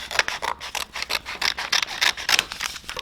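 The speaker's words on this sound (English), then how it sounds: "you can take your scissors if you want to save this" Scissors snip and rub through stiff vinyl in a quick, uneven series of crisp cuts, close by with no talking.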